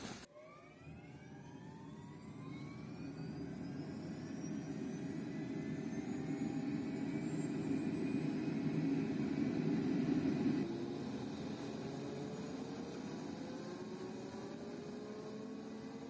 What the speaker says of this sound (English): After a couple of minutes standing around warming up the engine and working checklists, we finally lifted off the ground.